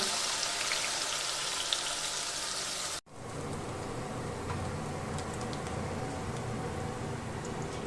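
Onion, ginger and garlic paste sautés in a pan for a lote fish kofta curry, giving a steady, dense crackling sizzle with a brief break near the middle; no one talks.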